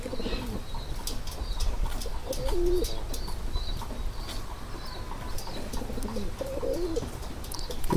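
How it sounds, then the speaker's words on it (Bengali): Domestic pigeons, including a lakkha (fantail), cooing outdoors near a house in a steady low murmur, with occasional wing flaps and chirps over a constant background hum. "আর যে কবুতরগুলো বাইরে আছে, এই কবুতরগুলো বাইরে থাক।"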